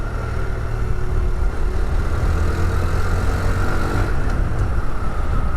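A Honda Trail 125 motorcycle on a test ride, its small engine humming steadily and fairly loud. Road and wind noise run underneath.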